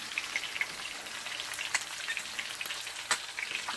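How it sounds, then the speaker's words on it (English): Catfish fillet and fresh garlic slices sizzle in a pan, a steady crackling fry dotted with small pops and spits, fairly close and moderately loud, with no voices. "I'm going to put in a few of these slices of fresh garlic"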